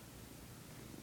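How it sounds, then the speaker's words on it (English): A cat purrs softly and steadily during a cuddle, a low continuous rumble close by with no other sounds. "Listen to that purring."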